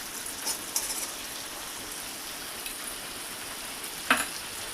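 A spoonful of butter melting in a hot kadai on a gas burner gives a steady, soft sizzling hiss with a couple of faint clinks, close and quiet, no voices.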